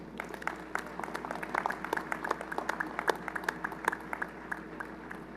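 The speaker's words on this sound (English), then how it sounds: "Would you join me for a round of applause?" Audience at a university commencement ceremony applauds the music ensemble, a steady stream of individual claps with sharp, distinct hand strikes over a low hum, moderately quiet and sustained.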